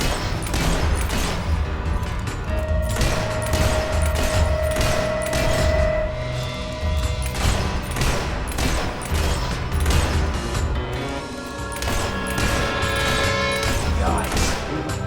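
Rapid bursts of gunfire in Fable III, a steady barrage of repeated shots with crashes and booms in a busy game battle, with voices talking over the shooting.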